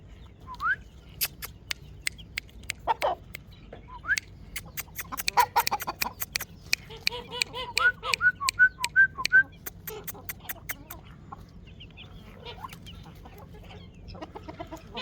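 Roosters cluck and chirp close by in scattered bursts, with a short run of repeated high calls partway through, over quiet background.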